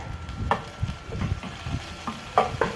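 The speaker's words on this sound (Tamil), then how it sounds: "இப்போ இது ரெண்டையும் இந்த ஆயிலில் கொஞ்சமாக ஃப்ரை பண்ணிக்கொள்ளுங்கள்" Cumin seeds and curry leaves fry in a little oil for a Sri Lankan egg roll filling, giving a soft sizzle broken by several distinct stirring scrapes and clicks, close and fairly quiet, with no voices.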